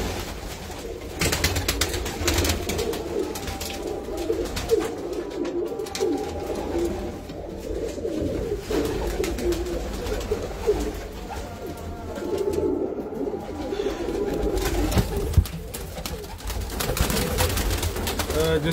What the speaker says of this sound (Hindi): ये देखें बटेरा कबूतर